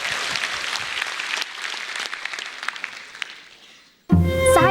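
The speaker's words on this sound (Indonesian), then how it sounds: "Berikan tepuk tangan untuk Sri" Studio audience applause for a stand-up comedian named Sri at a comedy competition show, a dense broadband clatter of many hands that holds steady, fades over several seconds, then cuts to a different louder passage with tonal music-like elements.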